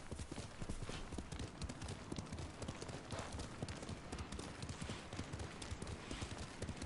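Rapid, steady hoofbeats of a galloping horse in the video game Ghost of Tsushima, a continuous drumming clatter heard faintly and close, with no talking.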